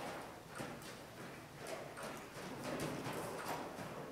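Hooves of a ridden horse clip-clopping in a quick, fairly even rhythm, faint and somewhat distant, over a steady background hiss.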